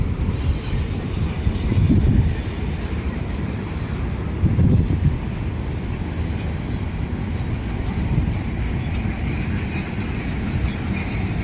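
CSX freight train Q009 rolls past Railroad Park in Birmingham, Alabama, a loud continuous rumble of railcars with wheel squeal and clacking rhythm, steady for the whole stretch.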